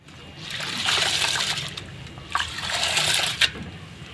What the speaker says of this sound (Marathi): तर आता हे पाण्यात भिजायला घालूया